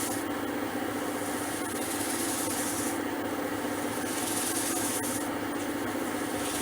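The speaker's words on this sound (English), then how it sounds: "And I'll just rub it backwards and forwards." A wet cloth rubs burnishing cream back and forth over a surface in steady, rhythmic strokes, close and continuous, with no talking.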